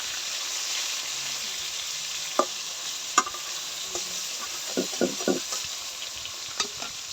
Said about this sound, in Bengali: মানে একটা পিঠ কতটা সুন্দর ভাজা হয়ে গেছে